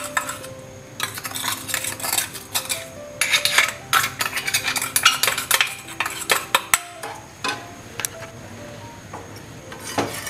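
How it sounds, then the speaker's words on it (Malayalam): A utensil repeatedly scrapes and clinks against a pan while sugar syrup is stirred over a low flame, producing busy bursts of metallic scraping with short pauses. "ഈ ചെറിയ തീയില വെച്ച് നമുക്ക് ഒന്ന് ഇളക്കി കൊടുക്കാം"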